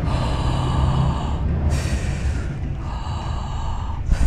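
Shallow, high-pitched chest breaths demonstrated by a voice teacher, two quick airy inhalations with noisy, gasp-like rushes of air, close and loud.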